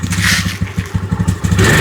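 A motorcycle engine sputters and turns over with a quick run of uneven low pulses, close by, then catches into a rough idle.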